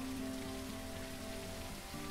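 Steady rain falling in a survival video game, a dense continuous hiss of drops over a low tonal hum, fairly faint and without talk.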